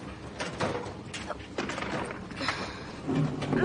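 A household washing machine runs indoors with a steady mechanical churning and rattling, marked by irregular clicks and knocks, moderately loud and continuous throughout with no one speaking.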